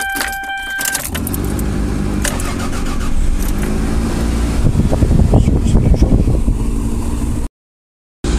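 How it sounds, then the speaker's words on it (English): A Toyota RAV4 being diagnosed for low EGR flow cranks and starts, then settles into a steady, loud idle with slight fluctuations up close; a brief metallic jingle sounds near the start. "So now the car's running"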